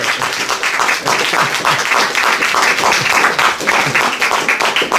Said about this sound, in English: Give a brother another round of applause.